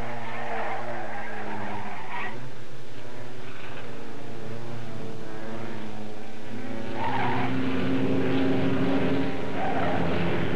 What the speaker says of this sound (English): Richard Petty, with his Plymouth, loses it once and gets lucky, but Lady Luck is not with him this time.